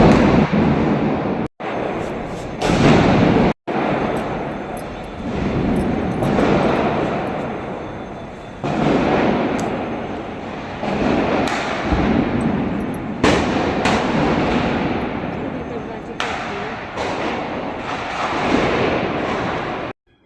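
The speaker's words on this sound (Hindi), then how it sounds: "इस बार जो है पटाखे वगैरह कुछ ज़्यादा ही फूट रहे थे" Diwali firecrackers and fireworks burst loudly at home during the festival, a dense continuous barrage of cracks and booms with sharp louder blasts scattered throughout.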